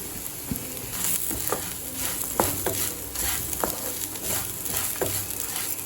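Urad dal sautéed in a pan for curry leaf rice, a steady sizzle broken by repeated clicking scrapes of a spatula stirring, close and moderately loud, no speech.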